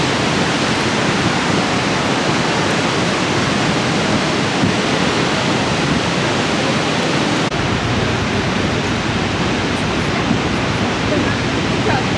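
Steady, loud roar of a waterfall in Canada, a dense broadband rush that continues unbroken for the whole stretch, with a windy hiss on top and no other distinct sounds.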